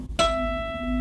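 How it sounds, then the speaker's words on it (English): A natural harmonic played on a higher guitar string rings out after a brief pluck, a pure bell-like tone sustaining and fading slowly, close and unaccompanied by talk. "If I do it on the higher string, you'll notice it more. This is the harmonic"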